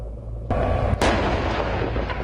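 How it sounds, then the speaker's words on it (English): Heavy Israeli artillery cannons fire volleys, booming repeatedly, with loud deep blasts rolling into one another amid a continuous roar of distant gunfire. "Israeli cannons fired volley after volley into Syrian territory"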